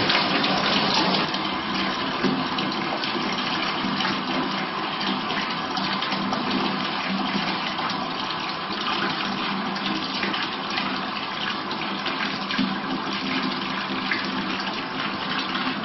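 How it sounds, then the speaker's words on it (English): Water runs steadily into a utility tub in a house during a hydraulic load test, a continuous full-flow rush and splash that stays even and fairly loud throughout, with no talking. "typically the hydraulic load test will be run in a bathtub because that's where you get your most flow the fastest"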